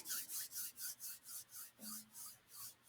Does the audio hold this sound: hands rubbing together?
yes